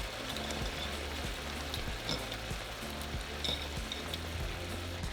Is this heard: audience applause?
no